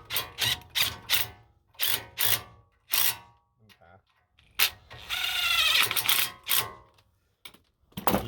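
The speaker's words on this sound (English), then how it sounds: "using your torque wrench and your deep 17, torque those to 80 pound-feet" Ratcheting clicks from a torque wrench fitted with a deep 17 mm socket, tightening front brake bolts on a Toyota Tundra. Short, close bursts of clicking are spaced through the clip, with one longer continuous ratcheting run near the middle.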